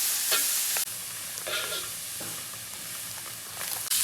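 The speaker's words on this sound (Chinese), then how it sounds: "锅中加油，葱蒜爆香，下入黄豆芽，" Soybean sprouts and lettuce are stir-fried in oil in a wok with scallion and garlic, giving a steady, fairly quiet sizzle broken by a few scraping stirs, with no talk.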